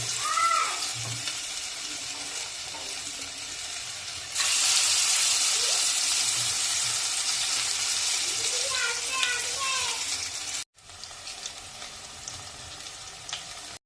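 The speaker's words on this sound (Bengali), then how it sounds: "দেখো বড়াগুলো লাল লাল ভাজা হয়ে যাচ্ছে" Sweet pumpkin fritters fry in hot oil in a wok, giving a steady, loud bubbling sizzle throughout with brief stir sounds and a short break near the end.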